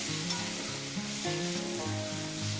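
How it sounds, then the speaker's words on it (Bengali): Boiled soya chunks fry with spices in a pan over a medium gas flame, giving a steady close sizzle that runs throughout beneath a continuous musical backing. "সিদ্ধ করে রাখা সোয়াবিনটা মশলার সাথে একটু ভেজে নেব"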